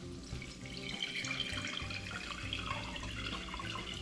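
Bread and butter pickle juice drains from a jar in a steady splashing trickle, liquid pouring continuously and close by with no voices.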